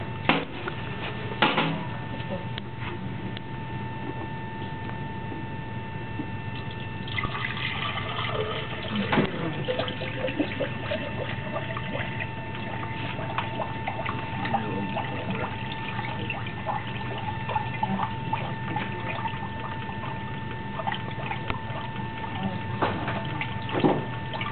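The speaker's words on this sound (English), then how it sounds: "it's filling up and the air is escaping through the two stopcocks" Liquid fills a hemodynamic simulator chamber while air escapes through two stopcocks, a steady low trickling and pump-like hum with occasional gurgles and clicks, close and continuous throughout.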